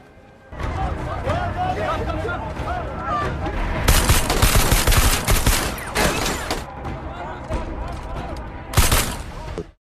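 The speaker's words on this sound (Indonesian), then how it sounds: "Hingga akhirnya terjadi adu tembak antara Saju dan para petugas tersebut" Rapid gunfire in an action film shootout between a fugitive and officers, with dense bursts of shots, loud volleys and cracks layered over shouting and commotion throughout.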